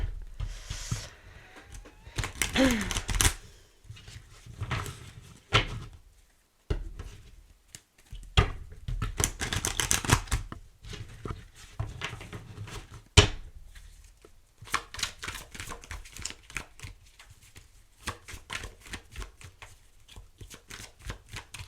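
A deck of cards is shuffled by hand, repeated riffling bursts with brief pauses between them and fairly close and clear, with no talk over it.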